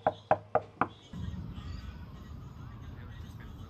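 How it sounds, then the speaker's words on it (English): Four sharp knocks on a front door in quick succession, fairly close and loud, followed by a quiet wait with only low background rumble. "knock on the door, no answer"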